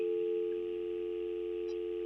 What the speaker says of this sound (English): We have a dial tone.